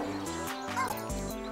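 Short cartoonish dog barks from the PHOGS video game, a couple of quick yips at moderate level over game music.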